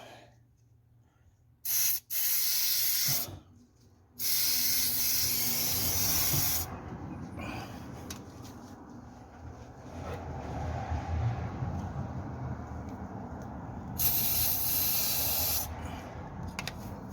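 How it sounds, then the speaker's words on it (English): Silicone lubricant sprayed from an aerosol can onto the suspension bushes of a Hillman Superminx, giving several sharp hissing bursts of varying length, close up, between stretches of quieter workshop background. "we're just going to hit that with some silicone, and it should just seep in"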